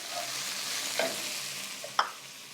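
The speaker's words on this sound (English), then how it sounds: "So I'm using about 2 tablespoons of capers. Stir those in there." Capers are stirred into a plant-based dish: a steady soft hiss with two brief utensil scrapes about a second apart, close and quiet, with no speech.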